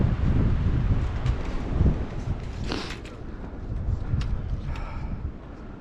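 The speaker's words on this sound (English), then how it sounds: "It's a little windy up here." Wind gusts across the exposed rocky summit of Bake Oven Knob on the Appalachian Trail, buffeting the microphone in low, rumbling waves that swell and ease, with a few faint scuffs.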